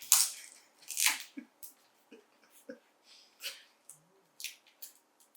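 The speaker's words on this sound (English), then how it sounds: "You unwrap the whole thing." Packaging of a Samsung Galaxy Z Flip3 being unwrapped: close, sharp crinkles and tearing rustles in short irregular bursts, quieter toward the end.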